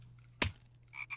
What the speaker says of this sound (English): Okay, there's a frog there.